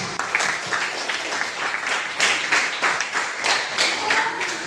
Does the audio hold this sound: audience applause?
yes